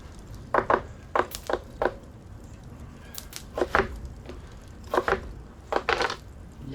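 Knife chopping onion on a cutting board while cooking beef and broccoli, a series of close, sharp wooden knocks in short bursts of two or three strokes with brief pauses between.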